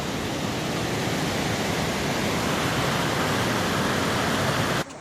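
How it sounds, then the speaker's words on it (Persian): A mountain river waterfall on the climb to Khalenu peak roars as a steady, loud, broadband rush of falling water with no talking, dropping off abruptly at the very end. "این رودخونه یه آبشار خیلی قشنگی هم داره"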